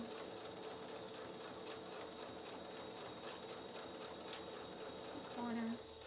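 A sewing machine stitches a cross-stitch project bag, running as a steady, close, rapid mechanical whir throughout with a brief higher tone near the end.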